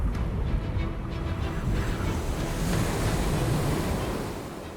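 A ferocious North Sea storm churns, heavy surf crashing and roaring beneath gusting wind that buffets loudly and continuously, the water's rumble swelling and easing without pause.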